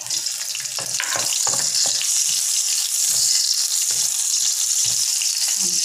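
Ripe chillies frying in a pan, a continuous bright sizzle with a scattering of soft pops and clatters, close and steady throughout.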